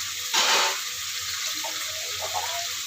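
Water pours from a tap into a pot with squash for soup, a brief gushing splash followed by softer trickling and quiet kitchen clatter.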